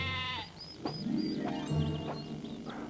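Sheep on a golf course bleat several times in short wavering calls, fairly close and clear, with no talking.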